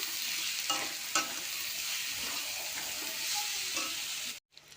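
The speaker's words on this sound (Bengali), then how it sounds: "সব মশলা দিয়ে দিলাম। মশলা ভেজে নেব।" Oil sizzles in a pan as ground spices (coriander, chilli) fry with potatoes, with a few scraping stirs of a spoon, steady and close, ending with a brief cutoff.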